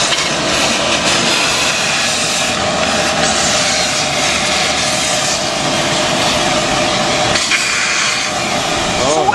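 A wet/dry shop vacuum sucks oil during a Ford engine teardown, a loud, steady roaring whine with a constant hiss running the whole time and people talking over it.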